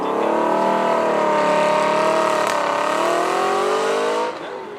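A stunning Aston Martin at the Beaulieu Supercar Weekend revs hard and close, its barking exhaust rising and falling in loud harmonic sweeps before cutting off abruptly near the end.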